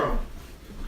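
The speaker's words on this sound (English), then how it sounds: "I'm gonna go over here to these noodles and I'm gonna stir them" Macaroni noodles being stirred in a cooking pot, a brief close scrape and swish of a utensil against the pot, heard alone.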